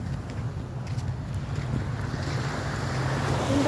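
Sea waves washing at the seashore with a continuous surf rush mixed with wind buffeting the microphone and a low rumble, no talking.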